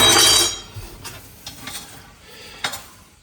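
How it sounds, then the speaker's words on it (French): A spoon stirs through couscous pasta to loosen the grains, giving a few light scraping and clinking sounds, louder at first and then softer and scattered. "Je vais mélanger mon couscous pasta pour défaire un peu les grains, l'aérer un petit peu."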